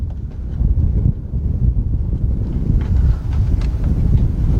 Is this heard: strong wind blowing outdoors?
yes